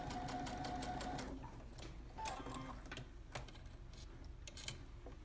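A domestic sewing machine back stitching down a sleeve hem where a cuff will attach on a tailored sleeve placket: a steady whirring run that breaks into a quick, close, rhythmic ticking of the needle.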